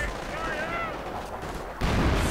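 Artillery barrage in a World War II real-time strategy match, heard as a dense, continuous rumble with booming impacts that swell louder near the end, all under game ambience.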